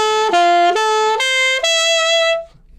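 Alto saxophone plays a short arpeggio figure from Flight of the Bumble Bee, a few clear sustained notes stepping up then settling on a held tone that fades out, solo and close.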